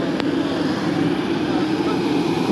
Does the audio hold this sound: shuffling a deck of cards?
no